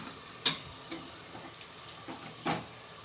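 Ginger garlic paste frying with chicken masala in a pan, giving a steady sizzle broken by a few louder scrapes of stirring, close by and with no talking.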